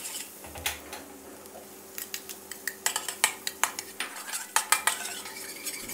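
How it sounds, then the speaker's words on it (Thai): Unsalted butter and finely minced garlic are stirred in a pan, a soft sizzle beneath a quickening series of sharp metallic clicks and scrapes from the utensil against the pan, close by and without speech. "เนยจืด2ช้อนโต๊ะและตามด้วยกระเทียมสับละเอียด2ช้อนโต๊ะแล้วก็ให้เราผัดเล็กน้อยนะครับให้เนยจืดของเราละลายนะครับ"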